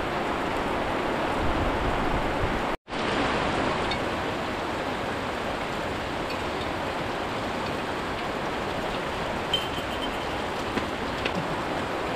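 Continuous heavy rain roars as a dense, even hiss, cut by one abrupt moment of silence early on before resuming unchanged.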